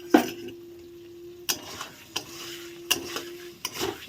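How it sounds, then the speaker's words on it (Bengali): Paneer posto with yogurt stirred in a pan, a few sharp scrapes and clinks of a spoon against the pan set apart by quiet gaps, over a low steady hum. "দইটা দিয়ে এখন ঘন ঘন নাড়তে হবে ভালো করে নেড়ে চেড়ে নেব"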